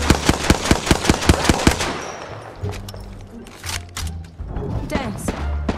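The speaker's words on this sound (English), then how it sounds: "The enemies are shooting at me." Rapid automatic gunfire in the Apex Legends battle royale game, a fast even burst of about ten shots up close, followed by scattered distant shots and thuds over game ambience.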